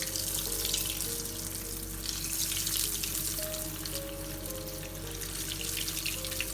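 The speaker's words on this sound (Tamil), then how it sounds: "இப்போ நம்மளுடைய சீஸ் பால்ஸ் ஃப்ரை ஆகிக்கிட்டு இருக்கு" Three chicken cheese balls deep-frying slowly in hot oil on low heat, giving a dense, continuous bubbling sizzle at steady loudness with no talking.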